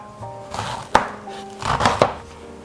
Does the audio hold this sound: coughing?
no